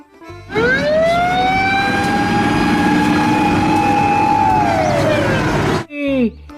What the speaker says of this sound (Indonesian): Ini adalah mobil pemadam kebakaran lagi teman-teman. Totot. Totot.